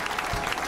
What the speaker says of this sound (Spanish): Aplausos por la reapertura del McSwiggan's.